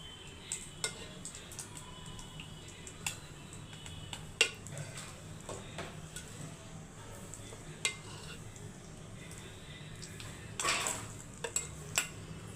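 Oil heating and frying in a pan while making Telugu-style egg pickle, a low steady sizzle broken by sharp clinks and scrapes of a metal spoon against the pan, close and without talk.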